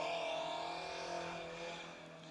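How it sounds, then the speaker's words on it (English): A Ford Escort Mark II rally car passes during a night stage of the Mull Rally, its engine a steady loud roar that slowly fades as it moves away, with no talk. "As Mark Booth just passed us in his Ford Escort Mark II."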